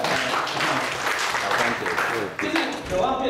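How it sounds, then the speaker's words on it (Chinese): Audience clapping fills a lecture hall at a Yilan County parents' association classroom talk: steady, dense applause for about three seconds, with a brief dip near the end and a voice faintly underneath. "拍手。"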